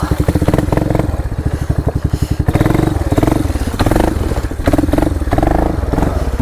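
A 1998 Yamaha Big Bear 350 4x4 ATV drives along, its engine pulsing loudly and close, with clattering and thumps over the rough terrain.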